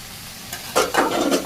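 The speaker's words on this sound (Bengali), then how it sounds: "এই যে মাংস মাখিয়ে নিতেছি" Raw meat being mixed by hand with potato, green chili, onion, garlic and ginger in a village kitchen, giving a brief wet squelching and rustling burst, close and alone.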